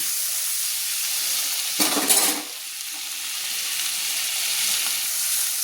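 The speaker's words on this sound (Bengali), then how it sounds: "টমেটোগুলো আমি নেড়ে নিয়েছি হালকা হালকা করে ভেজে নিয়েছি" Tomatoes fry in a pan for a Bengali fish curry with lau stalks, a steady sizzle with a brief burst of stirring scrapes in the middle.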